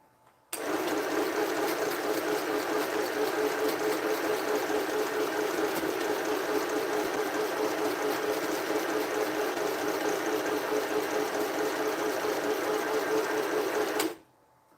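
A sewing machine runs continuously over a quilt seam, a close, steady rapid mechanical chatter that starts abruptly and stops cleanly after about fourteen seconds.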